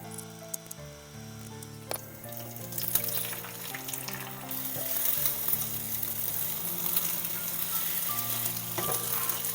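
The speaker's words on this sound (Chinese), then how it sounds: "锅里来点油， 把鸡蛋液倒进来。" Beaten egg hits hot oil in a wok, setting off a quick swelling sizzle that builds into a steady loud crackle, with a few utensil taps.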